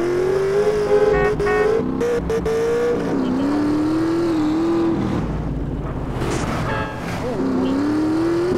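Car in the video game GTA driving fast, a loud continuous engine drone that rises and falls in pitch as it speeds up and eases off, close and steady throughout with no talk.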